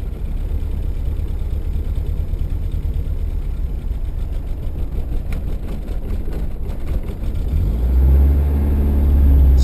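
A Horizon car engine idling by itself after a cold start with no throttle input, wandering between 1,000 and 1,500 rpm: a continuous close low rumble that swells louder and heavier near the end.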